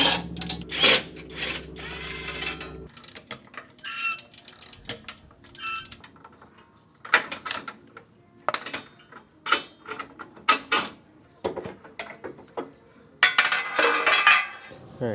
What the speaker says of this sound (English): So I just gotta break loose this bolt and the bolt back here